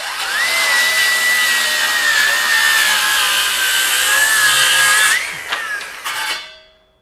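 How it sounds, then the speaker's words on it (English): A RIDGID R8658 18V brushless rear-handle circular saw rips pressure-treated 2x lumber at a bevel, a loud sustained high whine under load for about five seconds, then spins down and fades out. "For an 18 volt cordless saw, ripping 2x pressure treated lumber at a bevel,"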